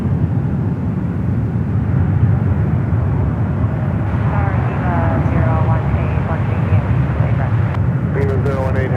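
Boeing 777 airliners at San Francisco airport produce a steady, distant jet rumble that continues under ongoing radio chatter and talk throughout.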